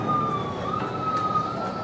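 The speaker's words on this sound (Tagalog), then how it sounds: "Ayan, may dumating na pulis." A police car siren wails steadily and loudly outdoors, a sustained tone that rises and falls slightly, with no voices over it.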